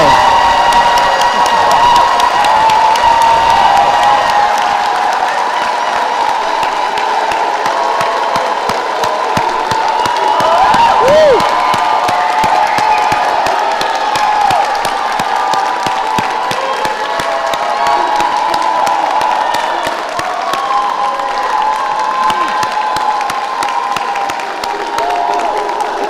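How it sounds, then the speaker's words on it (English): Large graduation-ceremony crowd for a 2024 WCPSS STEM graduation bursts into sustained applause with cheering and whoops, a loud, dense wash that holds steady throughout with a brief dip near the end. "let us recognize the students for all their hard work with a big round of applause"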